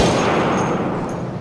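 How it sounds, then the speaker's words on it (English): Chauchat (Shosha) automatic weapon firing full-power rifle cartridges in Battlefield 1, a loud, close, rapid burst of gunfire running as one continuous rattle throughout. "we switch over to the Shosha SMG, which fires a fully powered rifle cartridge"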